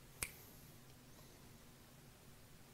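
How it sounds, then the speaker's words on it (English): A single sharp finger snap rings out close and crisp near the start, then nothing follows but faint room hiss in a quiet classroom. "Whenever I snap my fingers, you'll be able to see what I'm seeing on my Surface Pro tablet."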